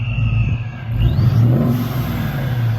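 Revving car engine on a freshly revived car, a steady loud whine rising and settling over a low rumbling drone, close by and with no talk.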